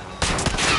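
Gunfire in the Warzone video game: after a quiet lead-in, a burst of loud, rapid shots breaks out and continues as dense, near firing through the rest of the clip, with a short sharper crack partway through.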